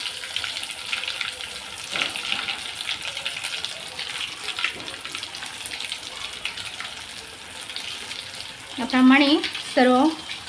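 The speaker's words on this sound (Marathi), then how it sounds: "याप्रमाणे सर्व फिशला मसाला लावून घेऊया आणि फ्राय करून घेऊया।" Masala-coated fish fries in a pan on medium gas, a steady close sizzle running throughout with stirring and clatter, and two short louder bursts near the end.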